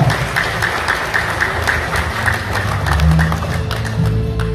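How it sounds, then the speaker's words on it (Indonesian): Crowd applause at an indoor health product gathering, a steady rattle of many hands clapping together over low room rumble, lasting several seconds. "Tepuk tangan untuk Pak Andoko."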